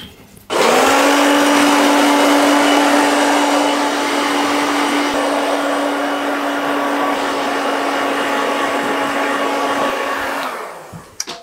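A hair dryer blows loud and steady for about ten seconds while drying a client's freshly cut wolf-cut hair at a barber's, switching on sharply and winding down at the end, with no talk.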